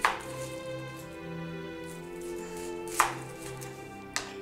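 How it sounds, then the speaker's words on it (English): An onion diced with a knife on a cutting board, three sharp isolated chops spaced a second or more apart over a quiet background hum. "So we're gonna start by cutting one onion."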